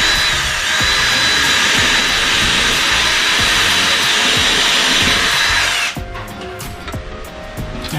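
Power drill running continuously as it bores up through a ceiling into a pine beam, a loud sustained whine for about six seconds before it cuts off, followed by faint knocks and handling noise.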